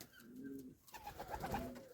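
Pigeons coo softly nearby, a low, rolling series of throaty coos repeating over a faint outdoor background.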